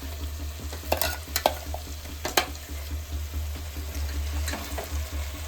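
Spice paste going into roasting masala in a pan and being stirred, a soft continuous sizzle with a few sharp scrapes and knocks of the spoon over a low steady hum.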